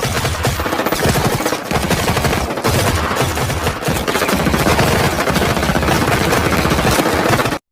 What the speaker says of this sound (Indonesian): seketika tembakan beruntun menghujam mereka